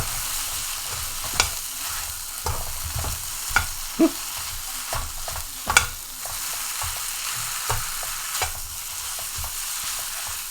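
Pad Thai fries in a hot pan as peanuts and scallions are tossed in, a steady sizzle broken by irregular stirring scrapes and clacks of a utensil.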